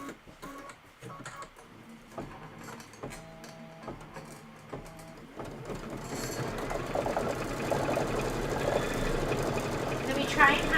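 A PQ 1500 sewing machine piecing fabric runs in quick bursts, its mechanical stitching clatter growing steadier and louder over the final seconds, with busier background noise underneath.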